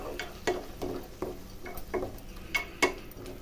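Cooked prawns being stirred into masala in a pan for prawn curry and dum biryani, a faint sizzle under a series of rhythmic spoon scrapes and taps, about eight strokes.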